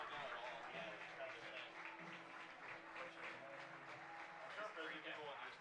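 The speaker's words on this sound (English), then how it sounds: "Standing ovation as he walks out" A college baseball crowd rising in a standing ovation, sustained broad applause and cheering filling a ballpark at moderate distance, with voices talking over the noise.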